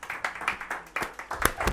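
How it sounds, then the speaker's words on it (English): A small audience claps in scattered, uneven bursts of hand claps at close range, with no voices. "Clap hard, clap hard."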